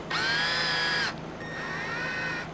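A drill bores out a broken EGR bolt on a Ford 6.7 diesel exhaust manifold: a close, steady high-pitched whine runs for about a second, stops briefly, then resumes slightly lower and quieter.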